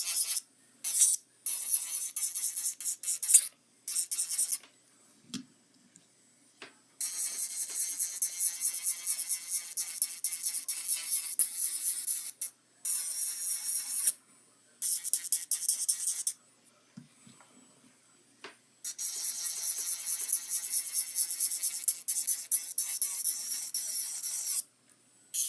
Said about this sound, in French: Je vais repasser avec ma lime à main.